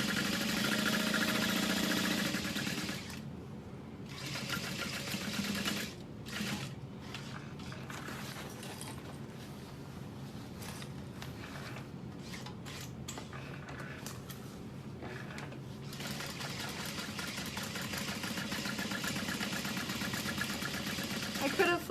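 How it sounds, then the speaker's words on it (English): An electric sewing machine runs in long continuous stretches, stitching two rows along a seam of a fabric barrel bag, with short pauses between runs and a steady motor whir close by. "I'm gonna add 2 rows of stitching because I don't want it to come undone."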